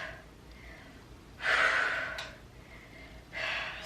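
Deep, audible breaths during a real-time yoga sculpt workout, with a soft inhale followed by a strong, forceful exhale and then another rising breath, close and clear with no talking.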